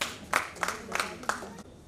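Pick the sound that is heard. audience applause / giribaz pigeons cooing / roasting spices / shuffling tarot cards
audience applause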